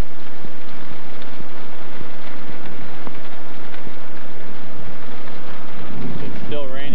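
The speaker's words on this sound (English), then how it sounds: "It's still raining even now" Heavy rain pours down with gusting wind in Durban, a dense, steady roar that fills the whole clip at close range.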